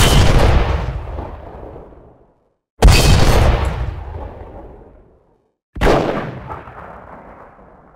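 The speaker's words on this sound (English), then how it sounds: "Now we have the 88mm PaK-43." Three heavy cannon blasts from a German 88mm PaK-43 anti-tank gun in the War Thunder tank game, each a sharp boom followed by a long, fading rumbling echo, with short silences between.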